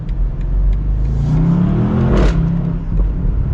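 A 2023 BMW M850i Convertible's engine revs loudly and climbs in pitch through a sustained pull, close and powerful, then settles back, with no talk over it.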